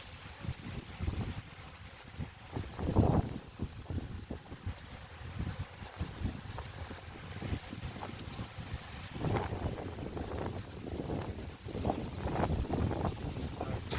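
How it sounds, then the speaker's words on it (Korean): Strong gusty wind blows among thick oak trees around a beehive site in May. It rumbles and buffets the microphone in uneven surges that swell and ease throughout. "아 바람이 엄청 불는데 지금."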